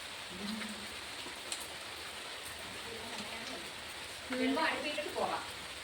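Rain falls steadily on a rainy day at home, a constant soft hiss of drops, with brief voices and clattering sounds breaking in near the end.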